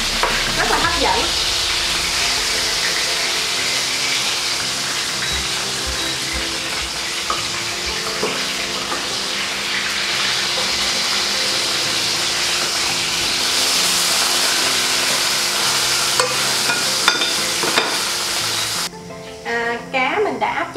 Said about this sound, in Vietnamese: Cá mình đã áp chảo xong rồi